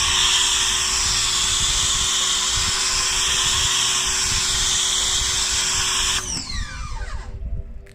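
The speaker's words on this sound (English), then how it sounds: "my washer here, the cobalt washer, is so damn loud" A Kobalt pressure washer runs loudly and steadily while washing a car, a constant high-pitched motor whine that cuts off near the end, leaving a falling whir and softer spray noise.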